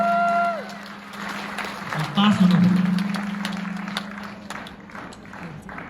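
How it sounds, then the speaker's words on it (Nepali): Guests at a Christian wedding ceremony break into scattered, crackling applause that swells midway and then tapers off, with voices talking over the clapping. "ताली बजाइदिनुहोस्।"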